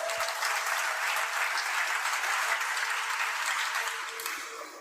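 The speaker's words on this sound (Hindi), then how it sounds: "तालियां तो हमने बहुत सुन ली" Audience applause at an Indian religious gathering in Jabalpur, a dense steady round of clapping from a large crowd that carries on and starts to fade toward the end.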